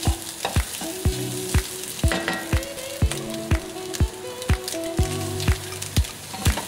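Bean sprouts stir-fried in a hot pan for Pad Thai, a bright constant sizzle punctuated by regular sharp scrapes and knocks of the spatula about twice a second, no speech.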